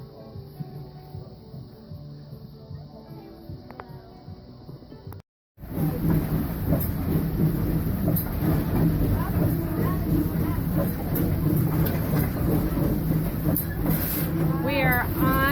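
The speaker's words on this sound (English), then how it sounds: "We are on the train." Steady loud rumble and clatter of a ride aboard the 1225 steam train at the Steam Railroading Institute, with a continuous rolling roar after a brief dropout and faint voices underneath.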